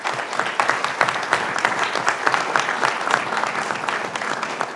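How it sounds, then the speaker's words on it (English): Steady round of audience applause for the moderators at a county commissioner candidate forum, a dense, even patter of many hands clapping from start to finish. "How about a round of applause for them?"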